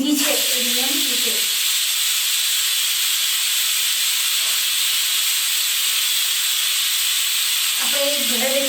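A pressure cooker cooking bottle gourd releases steam in a loud, continuous hiss, with a whistling tone rising at the start and again near the end.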